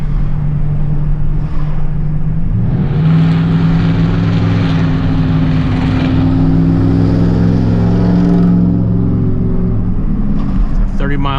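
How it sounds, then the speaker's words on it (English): A car driving recklessly in a 30 mph zone, its engine droning loud and close with rising and falling revs throughout, while someone talks over it. "He's driving around, acting like a maniac."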